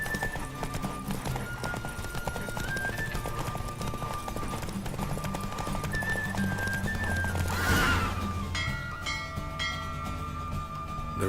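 Hooves of the horse Roach galloping in a race in The Witcher 3 video game, a steady rapid clip-clop under game music, with whinnies and a louder whoosh of effects near the end.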